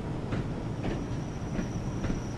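A Class 31 diesel locomotive runs in the Train Sim World 2 video game, giving a steady rumbling roll with rhythmic clickety-clack wheel beats and a faint high whine throughout.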